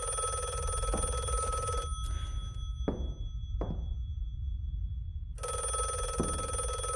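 Two bursts of an electronic phone ringing with steady high tones, a few seconds apart, in a horror video game demo, with low ambient hum and a couple of brief knocks in the quiet gap between rings.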